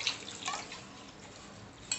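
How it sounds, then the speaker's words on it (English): Uncooked rice being rinsed by hand in a pot of water, giving soft splashes and swishing with a couple of brighter drippy splashes, close and fairly quiet, with no talking. "Now I am going to wash the rice."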